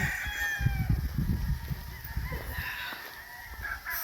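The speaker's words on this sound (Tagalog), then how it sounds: "Manok na sad." Fighting roosters on a farm in Murcia, Negros Occidental, give drawn-out crowing calls at some distance, several overlapping against low rumbling wind and handling noise close by.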